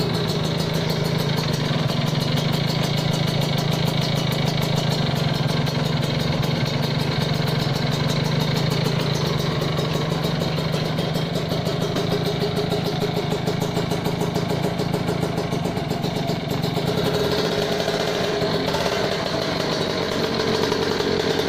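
A Kawasaki Ninja RR two-stroke motorcycle engine idles nearby, a constant buzzing rattle that holds steady throughout with a slight change in tone near the end, with no voices.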